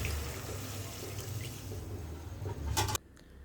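A glass of water is poured into a pot of washed chicken with chopped onion, turmeric and oil, making a steady close splashing rush that stops abruptly near the end.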